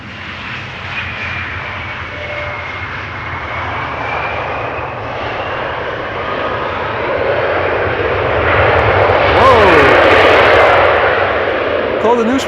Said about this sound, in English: Another KLM pilot using the reverse thrust.